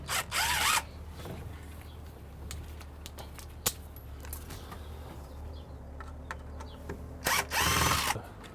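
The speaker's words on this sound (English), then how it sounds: "step one, we need to remove the screws from the center support" Cordless power drill backing screws out of a window's center support, several short high-pitched whirring bursts at the start and end with scattered clicks and tool handling in between, fairly quiet in a room.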